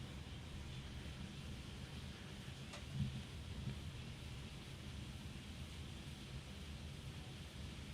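A distant thunderstorm rumbles on with steady rain-like hiss throughout, a single soft thunder crack and low roll rising briefly near the middle, faint and far off.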